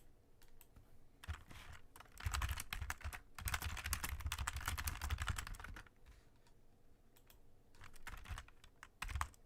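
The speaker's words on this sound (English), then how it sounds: "Here we'll have a typing ASMR" Typing on a computer keyboard in an ASMR-style recording, with bursts of close, rapid key clatter separated by brief pauses, moderately quiet and without any talking.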